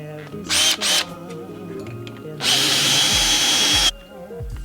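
An electric power drill bores holes through metal brackets in two short whirring bursts, then one long loud sustained run, with quieter background noise between.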